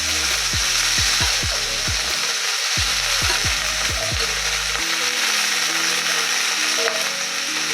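Cut eggplant and potatoes with black cumin and green chili frying in hot oil, a loud, steady sizzle that hisses continuously close up, with brief lower clatters as the pieces settle into the pan.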